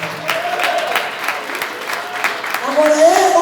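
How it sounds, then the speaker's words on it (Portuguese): A church congregation claps in steady applause while voices carry over it, the clapping swelling slightly toward the end. "Dá uma salva de palmas para Jesus."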